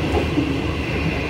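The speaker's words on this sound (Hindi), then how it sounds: "तो एक खूबसूरत सी ट्रेन" A train rolling along during heavy monsoon rain gives a steady, dense rumble and wash of noise, with no talking.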